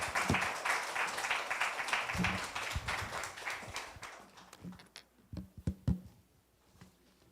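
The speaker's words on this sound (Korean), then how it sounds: "목사님 나오실 때 박수로 맞이할까요?" A church audience claps steadily to welcome a pastor, the applause thinning into a few scattered, louder individual claps toward the end.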